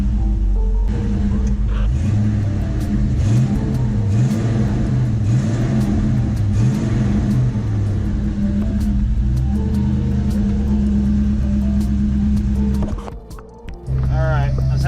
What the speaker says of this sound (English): Give it a little bit of gas, warming her up.